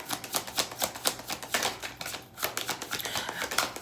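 Tarot cards shuffled and dealt close up, a rapid run of crisp papery flicks and riffles with short soft slaps as cards land, steady and moderately loud with no voices.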